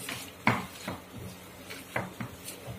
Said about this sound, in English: We have to mix up all in this way.